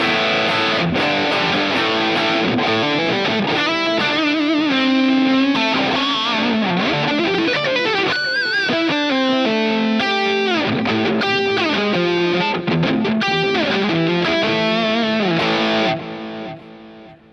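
Heavily distorted electric guitar through Positive Grid's BIAS FX amp simulator playing a continuous riff with sustained chords and quick single-note runs, loud and steady before fading at the end.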